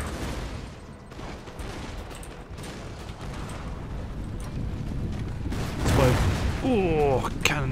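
Musket volleys in Empire: Total War crackle in a dense, continuous battlefield roar, with a louder burst of fire near the end and faint tonal sounds over it.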